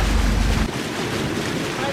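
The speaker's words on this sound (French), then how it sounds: "ce qui me permet d'utiliser les moteurs et de vérifier voir si les moteurs fonctionnent très bien" Engines on a sailboat running in dead calm at sea, a steady low rumble close by with broadband wind noise across the microphone throughout.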